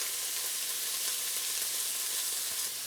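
Beef sizzles steadily as it is stir-fried in a wok for chili crisp beef lo mein, a dense, even, close-up hiss running unbroken without any talk.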